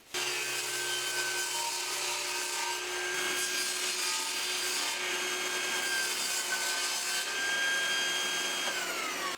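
Steady rasping saw strokes cutting a piece of material down to size for a sharpening station, continuous and fairly faint, with faint tonal ringing throughout and no talk.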